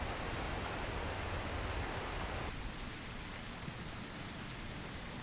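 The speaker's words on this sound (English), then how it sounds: "we would use the sound of the rain to hide our encroaching footsteps" Rain falls steadily in the video game The Isle Evrima, a soft, even wash of broadband patter with no distinct drops, faint and continuous, its tone thinning partway through.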